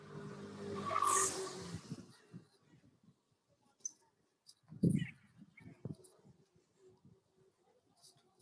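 Cars pass along a street in Istanbul, with a fairly loud vehicle rush early on and then sporadic nearby traffic noise, a brief tire squeal and scattered street sounds, with no one talking.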